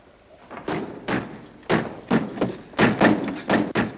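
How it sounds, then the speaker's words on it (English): A door being shut and locked in a 1950 war film set in the Philippines, heard as a run of about nine heavy wooden thumps and knocks at uneven intervals, close and loud, with no speech. "Dick, lock the door."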